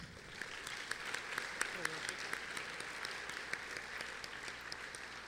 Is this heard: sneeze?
no